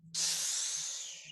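A single forceful exhale pushed hard through the mouth in a breathing exercise, a loud steady breathy hiss lasting over a second and fading slightly at the end, close and alone.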